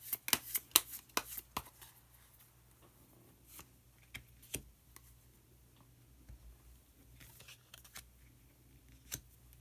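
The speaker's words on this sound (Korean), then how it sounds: "카드 한 장을 더 뽑고 이야기 계속 나오도록 하겠습니다" Tarot cards being shuffled and drawn up close, a quick burst of sharp riffling snaps at the start followed by sparse, isolated card clicks and slides in a quiet room.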